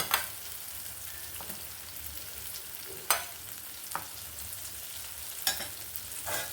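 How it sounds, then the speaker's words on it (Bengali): Fried potatoes sauté with spice paste in a pan for a potato and pointed gourd korma, making a soft, steady sizzle broken by a few sharp scrapes and taps of the stirring spoon. "এবার আলু সমেত আর একটু কষিয়ে নেব মশলাটা"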